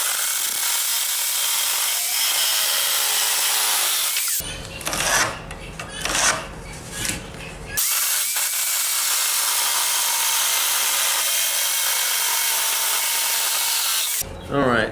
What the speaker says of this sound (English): I'll probably just cut this strip off with the jigsaw